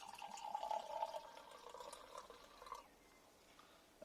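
Cider, an Ashmeads Kernel and Black Dabinett blend, being poured into a glass, a faint, steady trickling stream lasting a few seconds before tapering off into quiet.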